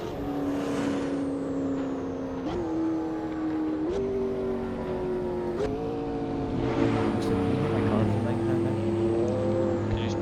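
A car cruising on a Japanese highway, its engine note steady and droning with a few shifts in pitch as speed changes, close and continuous under the occupants' talk.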